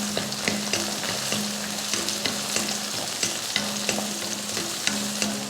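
Shallots and curry leaves sauté in a pan for a country chicken curry, giving a loud, steady, close sizzle with regular spoon-scraping stirs throughout.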